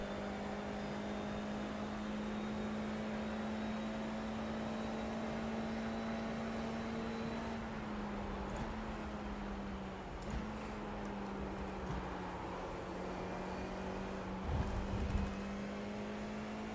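A Formula car engine in iRacing laps Suzuka, its steady high-pitched drone holding near-constant pitch with slight dips and rises through corners, continuous and alone at moderate level.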